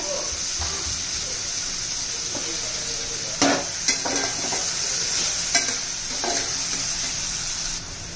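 Asafoetida added to hot oil in a pan while cooking pavta rice brings a steady sizzle and frying hiss, broken by a few scraping stirs of a spoon in the pan.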